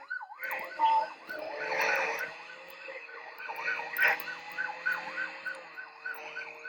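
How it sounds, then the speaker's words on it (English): An ambulance siren in a video game wails in a fast, repeating up-and-down sweep, loud and close, with engine noise and brief bursts of other game sounds around it. "Oh, the ambulance."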